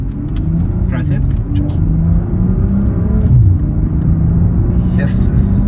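A BMW car with a B58 engine, gearbox in sport mode, revs hard under throttle in a loud, sustained low rumble that swells and holds for several seconds, with people talking over it.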